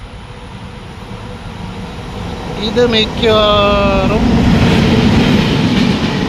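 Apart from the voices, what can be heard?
Netravati Express LHB train arriving at Irinjalakuda station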